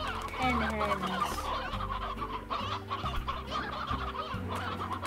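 Hens cluck steadily and loudly in the farm-raising video game Slime Rancher, with layered clucks and a few rising squawks that carry on throughout, and faint talk underneath.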